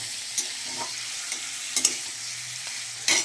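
A fish head fries in a pan with a constant bright sizzle, broken by a few scraping spatula strokes and clinks, loud and close with no voices.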